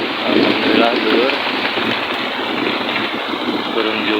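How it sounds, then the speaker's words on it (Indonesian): Heavy rain pours steadily over farm fields, a dense, loud hiss that stays constant throughout, with a faint rumble underneath and no one talking. "turun juga ya hujannya"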